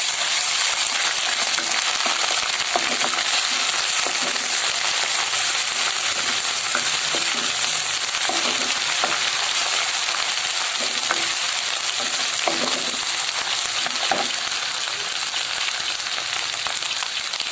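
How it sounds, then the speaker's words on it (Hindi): Garlic and ginger fry in a pan with a continuous sizzle and crackle, with scattered soft clinks and scrapes from stirring now and then. "अब इसके अंदर अब हम लहसुन अदरक डाल के बस 1 मिनट के लिए भूनेंगे इसको"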